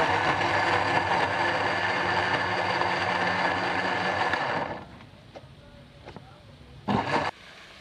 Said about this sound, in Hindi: इसमें हम दही डालेंगे, इन चीजों का हम ग्राइंडर कर लें।